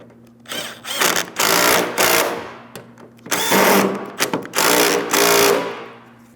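A power tool runs in several loud, sustained bursts with short pauses between them while tightening hood hinge mounting bolts on a 2007-2014 Ford Edge.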